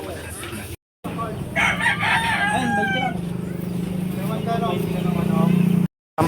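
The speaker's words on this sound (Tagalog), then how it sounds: "Manok ang aming nabili." A rooster crows loudly and close at an open-air market, one long drawn-out cock-a-doodle-doo heard over people talking nearby and a busy street background.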